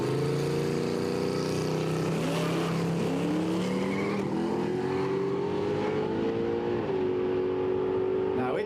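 Turbo LS-powered Gemini drag race car at a Quick Street drag racing event, a loud continuous engine roar with pitch rising and shifting steps as it launches and pulls away, with commentary talk underneath.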